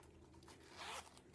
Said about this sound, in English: I love that it zips down so it opens wider